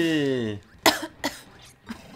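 A deliberate fake cough from a person playing Kirby Super Star, three short sharp bursts following a brief stretch of voiced sound, close and fairly loud.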